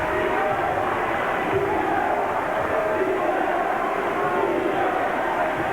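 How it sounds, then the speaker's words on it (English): Crowd at a 1997-98 Regina versus Brandon basketball game, a loud steady roar filling the arena throughout, with no distinct individual voices standing out. "Hear the crowd."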